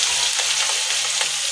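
Ground shallots and curry leaves fry in a hot pan with a steady, loud, dense sizzle and crackle, close up and continuous with no talking.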